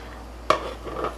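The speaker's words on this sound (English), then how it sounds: "I'm actually going to mix everything in my bowl here" Chicken fajita ingredients stirred together in a bowl for baked chicken fajitas: one sharp clink of a utensil against the bowl, then soft, wet mixing scrapes, close and fairly quiet.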